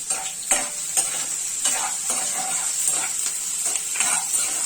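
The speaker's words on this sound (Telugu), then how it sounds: "బ్రౌన్ కలర్ వచ్చేంత వరకు ఉల్లిపాయని వేయించుకోవాలి" Chopped onions and bay leaves fry in hot oil, a loud close sizzle broken by regular scraping strokes of a spoon stirring the pan about twice a second, with no talk.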